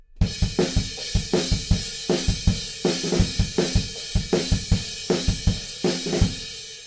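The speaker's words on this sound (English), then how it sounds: "And then the straighter version of that groove sounds like this." A straighter drum groove for a song, a steady driving pattern of kick and snare hits under a constant washy crash cymbal, loud and close, with no voices.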